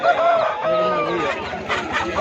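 Rooster crowing rings out amid a noisy Sunday poultry market, the bird's call mixed with surrounding chatter and background commotion.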